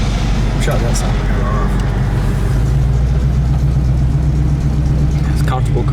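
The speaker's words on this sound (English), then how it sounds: "It idles really nice." A 1972 Chevrolet El Camino SS V8 idling close by, a steady low rumble that runs the whole time with a slight swell in the middle, while people talk over it.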